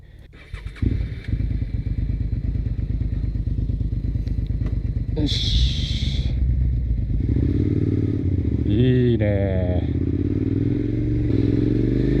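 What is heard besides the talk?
Suzuki SV650 motorcycle engine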